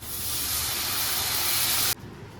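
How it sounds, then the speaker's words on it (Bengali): Loud, continuous steam hiss as water is poured into a hot pan while cooking a soybean and egg curry, holding steady for about two seconds and then cutting off abruptly to a quieter simmer. "এবার আমি জলটা ঢেলে দিচ্ছি"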